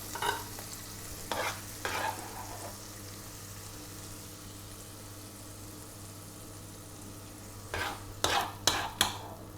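Beef skirt steak in a frying pan gives a faint low sizzle, broken by a few short scraping bursts as the pieces are turned, clustered near the start and end.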